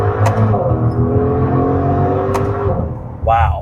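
Maserati Levante GTS engine with a Ferrari-derived V8 revving from inside the cabin, a steady loud drone with a rising tone and a short sharper burst at the end, under a voice talking.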